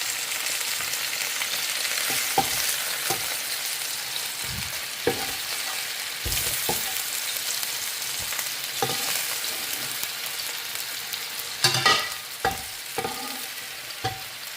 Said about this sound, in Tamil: இந்த கறி மேலே இந்த பச்சையாக இருக்கக்கூடாது அதுக்கேற்ற மாதிரி நம்ம அதை பொறிக்கணும்